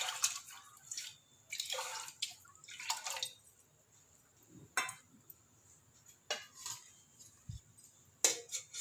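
Water poured into a pressure cooker holding soaked kodo millet makes faint, intermittent splashes and trickles, with light clinks of a metal vessel between pours.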